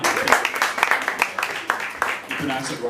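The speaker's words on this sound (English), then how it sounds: "Round of applause." An audience at a drinks and pitch night claps in dense, lively applause for a few seconds, with voices mixed in.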